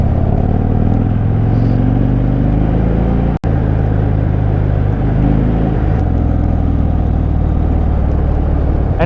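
A 2013 Harley-Davidson Dyna Fat Bob motorcycle cruising through a wintry valley, its steady low engine rumble loud and continuous for the whole stretch, with one brief sharp dropout partway through and no talking.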